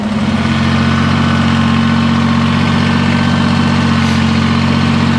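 A tractor engine runs steadily at a sawmill, a loud, close, low droning idle with a constant rumble and no other sounds.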